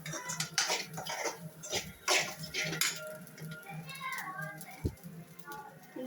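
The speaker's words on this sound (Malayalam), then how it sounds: "നല്ലവണ്ണം ഇളക്കി കൊടുക്കണം." Food being stirred in a pan over a gas flame until it browns, with clinks of a utensil against the pan under steady talk and a voice.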